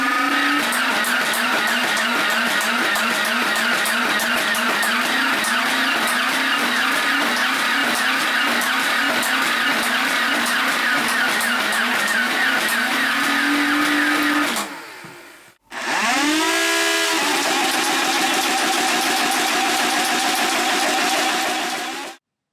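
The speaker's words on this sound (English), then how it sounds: "As you can see from the firing comparison, the performance of the Rhino fire has greatly improved" A modified Nerf Rhino Fire blaster fires in a long rapid burst, a dense whirring, rattling mechanical buzz with a rising and falling motor whine, cutting out briefly before a second sustained volley, close and loud.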